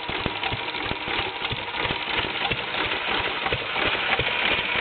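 Fairbanks-Morse ZC52 stationary engine running on propane, with a water pump driven off the flywheel pulley and a Wisconsin single-cylinder magneto, gives a steady, close rhythmic chugging with regular firing beats.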